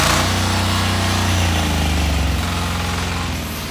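Weima 12hp gear-type diesel cultivating tiller engine, choke set, running loud and close with a steady low throbbing chug that eases slightly toward the end, no voices.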